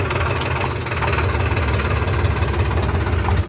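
A 969 CRDI tractor engine idles steadily and loudly nearby, a continuous low rumbling throb with a slight knocking rhythm, cutting off abruptly at the end.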